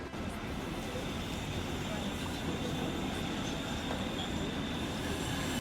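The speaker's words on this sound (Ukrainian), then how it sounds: "згодом з'явився той самий трамвай з табло Покатушки 2023" A tram rumbles and rolls in steadily, a constant low rail noise with faint wheel squeal, while voices murmur faintly in the background.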